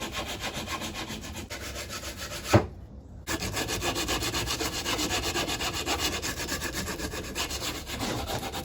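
A wooden trout carving is sanded by hand to take off corner burrs, making continuous close rubbing and scraping strokes that pause for a moment partway through.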